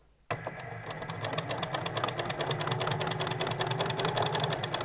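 A sewing machine stitches fabric bunting, starting abruptly and running at a steady fast rhythmic whir, close and loud, with no talking.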